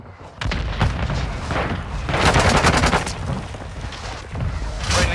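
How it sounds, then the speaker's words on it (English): Mortar strike in the video game Warzone, loud dense rumbling booms and bursts of gunfire rolling together in waves, swelling and fading over several seconds without speech. "Friendly mortar strike on the way."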